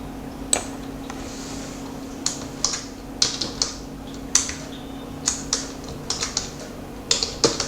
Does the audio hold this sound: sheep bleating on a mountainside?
no